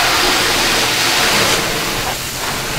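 Steady broadband hiss of a water spray rinsing a car during detailing, ahead of drying, panel prep and a ceramic spray coating. The rinse runs continuously for about three seconds, close and loud, with no talk over it.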